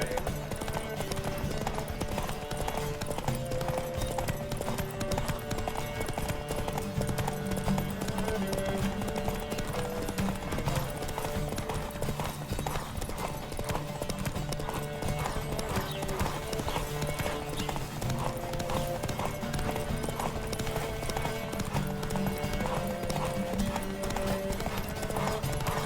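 Steady clip-clop of galloping hooves in The Witcher video game runs throughout, loud and rhythmic, with occasional horse whinnies and faint game music underneath.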